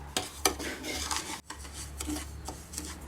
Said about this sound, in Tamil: ரவையை வறுத்து எடுத்துக்க போகிறேன்.